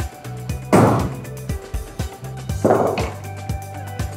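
A heavier hammer slams into Thordon SXL polymer twice, giving two loud, close thwacks about two seconds apart, with lighter taps and handling knocks scattered between them and no voices.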